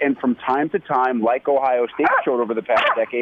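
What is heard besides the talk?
dog barking outside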